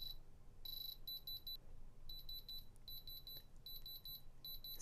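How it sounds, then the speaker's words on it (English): A handheld diamond tester gives repeated short, high electronic beeps in rapid bursts, loud and close, with brief gaps between runs of tones. "So that tone means it's a diamond."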